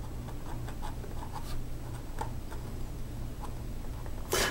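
An Omas Ogiva Cocktail fountain pen, very wet and slightly scratchy, is written with its nib reversed on paper, giving soft, close scratching strokes in an irregular rhythm over a quiet background hum.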